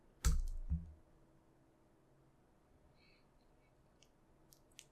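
Two sharp key presses on an Apple computer keyboard, close and distinct within the first second, followed by near silence and a couple of faint clicks near the end.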